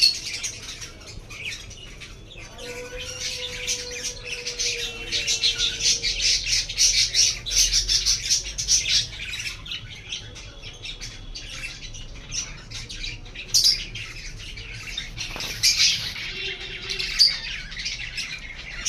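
Pet lovebirds and budgerigars fight in a cage, giving loud, harsh squawks and shrill chirps in irregular close bursts over a constant chatter of smaller twitters, with occasional brief wing flutters.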